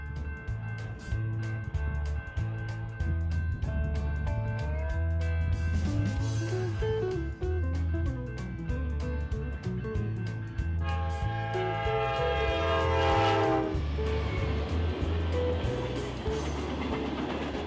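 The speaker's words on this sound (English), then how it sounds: "This NS general merchandise freight heads by on its journey to Kansas City." A Norfolk Southern general merchandise freight train rolls past steadily and loudly for the whole stretch, with a rhythmic low rumble of wheels over rail joints and some high metallic squeal near the end.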